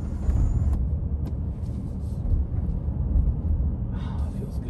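A 2022 Honda Ridgeline pickup truck cruising on the road, a steady low engine and road rumble with some wind noise, fairly loud and continuous throughout.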